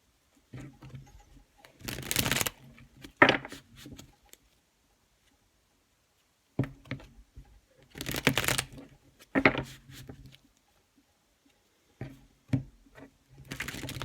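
A deck of cards is shuffled in several quick riffling bursts, separated by short pauses, close and crisp.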